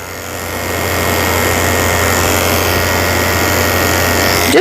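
Electric clippers fitted with a 30 blade trim close around the eye corners of a toy poodle, a steady, loud motor buzz humming without pause and swelling slightly as the blade works through the hair.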